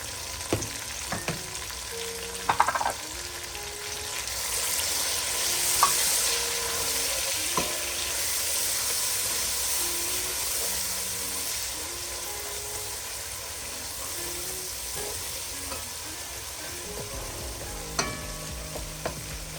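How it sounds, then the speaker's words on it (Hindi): Spices such as red chili powder, Kashmiri chili, cumin powder and garam masala sizzle and fry in a pan while being stirred, a steady soft crackle with intermittent scraping and clinks of the spoon. "मसाले को हम भूनेंगे।"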